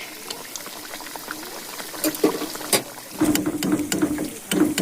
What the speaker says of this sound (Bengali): এইভাবে তেলটাকে পিঠের ওপরে উঠিয়ে দিলে বারে বারে, তাহলে এটা খুব ভালোভাবে ভাজা হয়ে যাবে